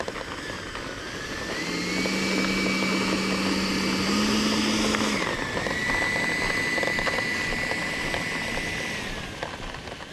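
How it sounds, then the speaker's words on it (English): A Freewing F-22 Raptor 90mm EDF model jet flies past with a rising, whining ducted-fan roar that swells, holds steady, then slowly fades, heard outdoors at a moderate distance. "It's a successful maiden flight of F-22 Raptor."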